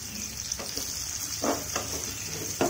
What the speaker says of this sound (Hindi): साथ में इसको फ्राई करेंगे।